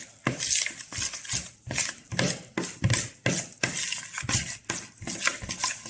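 Focaccia dough of flour and water is mixed in a bowl with a utensil, giving rhythmic clinking scrapes that repeat about twice per second, close and clear with no talking.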